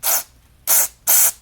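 Three sharp, close bursts of hissing spray as air is blown through a carburetor jet, forcing carb cleaner out both sides of a Tecumseh 640349 snowblower carburetor.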